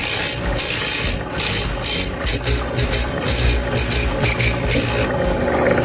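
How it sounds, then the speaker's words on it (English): A machine carves a smooth wooden sphere from a block of wood, giving a loud, steady rasping and grinding with a motor hum underneath and rhythmic scraping pulses throughout. "It is precisely cutting out a perfectly smooth wooden sphere."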